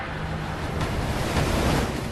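Ocean waves rolling onto a rocky Pacific Northwest coastline along the Oregon shore, a continuous broad roar of surf mixed with wind, steady and fairly close, with no voices.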